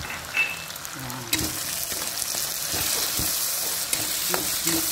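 Food frying in a pan with ketchup, ground pepper and tomato being stirred through it, a steady loud sizzle with repeated scraping stir strokes close by, no talking.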